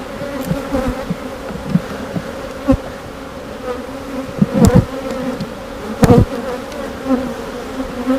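Honeybees from a captured swarm buzz in and around a hive box on a farm, a dense continuous hum close by with louder passes as individual bees fly near, and no talking.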